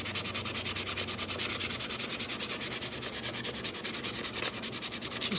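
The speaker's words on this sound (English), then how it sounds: "this part that I wet is already dry, and pretty much I can sand this now" Dry clay on a cone form is sanded by hand in fast, even back-and-forth strokes, a close, steady rhythmic scratching rasp that continues without any talk.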